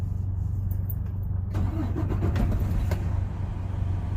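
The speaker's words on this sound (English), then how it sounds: "So now I'm going to turn the engine on." The diesel engine of a semi truck cranks and catches inside the cab, then settles into a steady, loud, low rumbling idle with no voices.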